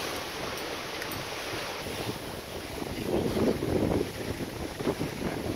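Steady wind buffets a sailboat at sea in 15 to 20 knots, with water rushing and slapping against the hull, swelling louder toward the end; no voices.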